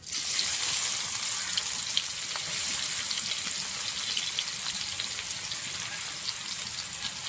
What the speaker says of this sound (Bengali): এইবার দিয়ে দেবো পেঁয়াজ কুচি